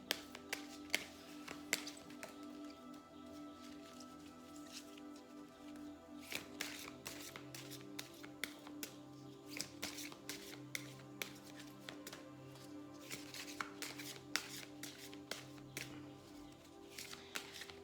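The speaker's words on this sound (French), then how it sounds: "si jamais c'est trop long le brassage des cartes, tu avances un petit peu la vidéo" Tarot cards being shuffled by hand, a long run of soft, close, crisp taps and riffling flicks that repeat irregularly, quiet and alone, with denser bursts of shuffling partway through.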